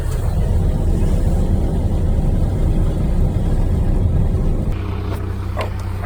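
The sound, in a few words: vehicle towing a stock trailer down the road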